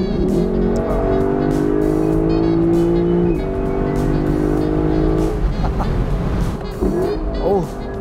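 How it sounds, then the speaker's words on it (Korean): A Lexus LC500 convertible on the road, its exhaust note rising and dropping through gear changes with deep booming pulses on downshifts, loud and close with some tire noise underneath. "기어를 내릴 때마다 정말 뒷범퍼에서 누가 그냥 드럼통을 엄청 치는 것 같은 그런 사운드가 나요"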